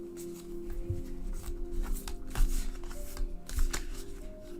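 Tarot cards being shuffled by hand, heard as a run of soft, papery riffling and rustling bursts over a low, steady background hum.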